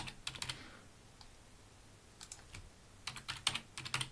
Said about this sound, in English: I choose a password for my user, for Joe,